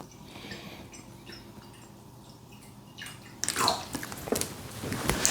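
Liquid poured out of a container while making mead, half a litre measured off; a burst of splashing, gurgling pour starts about two thirds of the way through, close and fairly loud after quieter background drips.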